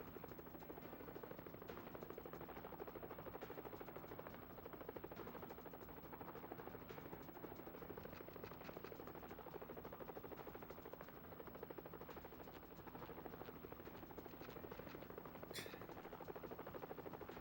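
A helicopter in a video game thrums in a steady rapid rotor chop that stays constant and fairly quiet throughout, with no voices over it.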